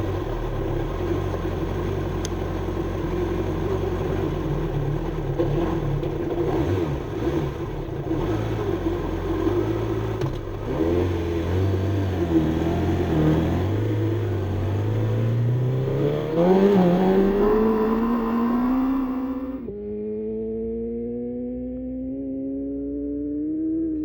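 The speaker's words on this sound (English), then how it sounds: "Next vehicle, motorcycle" An engine builds in pitch over many seconds as a long-course land speed racing motorcycle approaches and races past at Bonneville Speedweek, rising to a loud whine before fading abruptly away.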